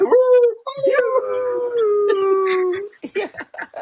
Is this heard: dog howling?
yes